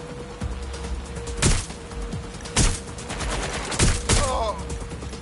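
Gunfire in the video game Watch Dogs: Legion comes as several heavy shots spaced a second or so apart over a constant background hum, with faint game sounds between them.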